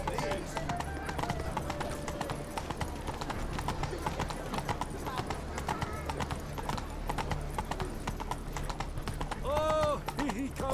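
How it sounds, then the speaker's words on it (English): Horse hooves clip-clopping in a steady galloping rhythm in The Witcher 3: Blood and Wine, loud and close, with game music and sounds layered over it and a brief whinny near the end. "Run, Roach."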